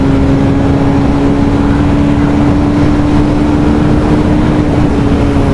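Bajaj Pulsar 220F motorcycle running hard through its gears, a loud steady engine drone with a strong sustained tone, constant and close throughout with no speech.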